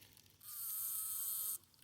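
A dense, steady buzz of honeybees at a hive in early spring swells in and holds for about a second before cutting off, close and fairly loud over quiet surroundings.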